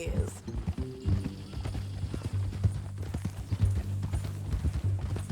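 Horse hooves clip-clop at a steady walking pace in the video game Red Dead Redemption 2, close and distinct, while people talk over them.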